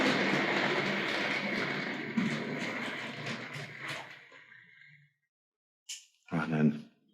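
A Tri-ang R.56 Transcontinental 4-6-4 model tank locomotive runs along the track with a steady whirring rumble and light clicks for about five seconds, then stops, leaving quiet followed by a couple of short sharp clacks.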